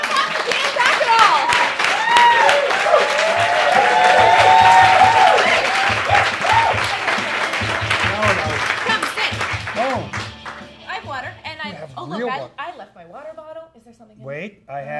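A studio audience at a comedy talk show breaks into applause and cheers for an arriving guest, loud and sustained at first, then thinning out as voices and laughter take over.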